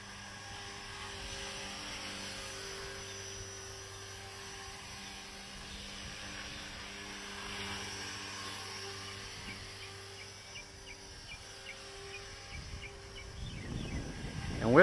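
Faint, steady rotor drone from an Align 450 flybar RC helicopter spinning up outdoors in wind, with a low hum and hiss that swell louder near the end.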